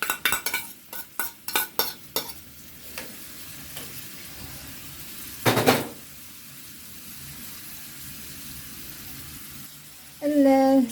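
Chopped onion frying in a little oil in a pan, a steady soft sizzle running underneath, broken by a few quick clinks and scrapes of a utensil against the pan early on and a louder stir partway through.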